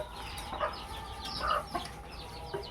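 Chickens and chicks cluck in a coop where a rat snake was found among hen and duck chicks, several short clucks rising at intervals over a steady low background.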